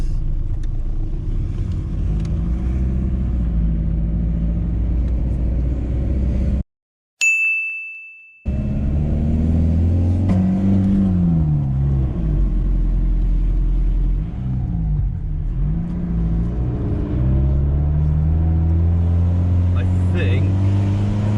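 A VW T4 van's engine runs loud after its intercooler has popped off, a steady low rumble with shifting revs on a steep hairpin mountain road, broken once by a sharp ding and a brief dropout, with voices talking over it.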